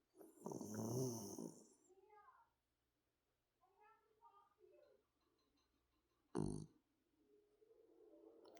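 A dog snoring in deep, raspy bursts, close and fairly loud, with quieter breathing between them and a voice speaking softly now and then.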